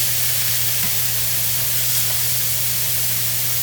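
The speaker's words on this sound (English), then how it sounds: "I have seared the steaks as well as the lamb chops" Lamb steaks and chops sear in a hot pan, giving a steady, loud hiss of sizzling fat over a low electrical hum, unbroken throughout.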